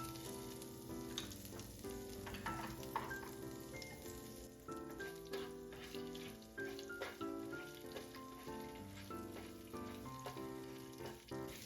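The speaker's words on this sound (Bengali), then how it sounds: "একটা শুকনো লঙ্কা নিয়েছি, আর জিরে ফোড়ন দিচ্ছি।" Cumin seeds and a dried chilli crackle and sizzle steadily in hot oil, a soft continuous frying sound with faint tonal background.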